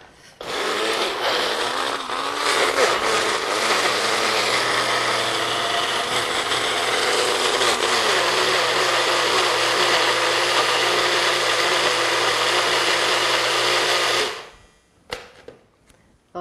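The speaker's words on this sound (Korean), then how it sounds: "믹서기라든지 커터기라든지 분쇄기라든지 그런 거 이용해서 갈아주세요" A blender grinds strawberries steadily and loudly for about fourteen seconds, a dense whirring roar that cuts off abruptly, followed by a few faint knocks.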